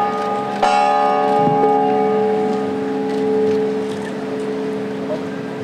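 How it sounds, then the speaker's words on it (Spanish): A replica of the Dolores bell rings at an Independence ceremony outside a government palace in Campeche, a sustained clang with long metallic overtones ringing steadily over crowd murmur. "hizo tañer la campana réplica de Dolores"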